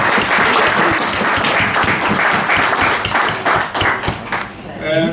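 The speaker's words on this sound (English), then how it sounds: "And I ask you to give a round of applause." A small room audience at a club formation meeting claps loudly and close by, irregular hand claps with some thumps, tailing off toward the end as voices come through.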